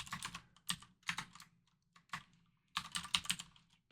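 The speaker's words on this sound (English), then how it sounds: "So this is where I said there's going to be a lot of typing." Fast typing on a computer keyboard while writing C++ code, close and crisp, in quick bursts of clattering keystrokes broken by brief pauses.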